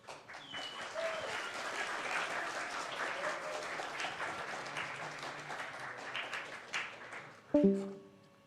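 An audience at a game jam presentation event applauds for several seconds, moderate and fairly distant, fading out before a brief sharp tonal sound near the end.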